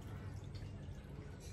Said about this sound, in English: I'm going to check by pouring this water back into here